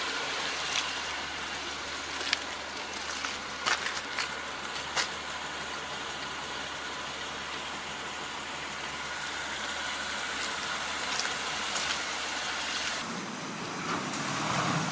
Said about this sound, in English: it's a noisy vehicle